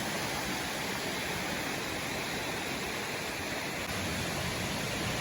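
Creeks and mini waterfalls in a park make a constant, even rush of flowing water, a soft broadband hiss that holds steady throughout with no voices.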